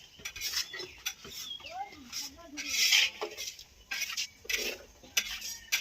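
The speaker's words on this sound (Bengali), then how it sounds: "এই যে কাকিমাদের এখানে রান্না হচ্ছে কাকু রান্না করছে" Home cooking with pots and metal utensils for a festive meal of fried dishes, clinks, scrapes and stirring knocks coming irregularly at close range, with voices and background chatter mixed in.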